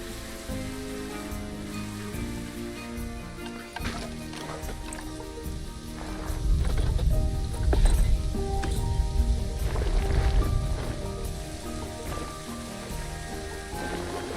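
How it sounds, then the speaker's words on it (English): Steady rain in the zoo-building game Planet Zoo hisses continuously across the whole stretch, swelling louder with a heavier low rumble midway, mixed with soft ambient game music. "And of course it's raining again."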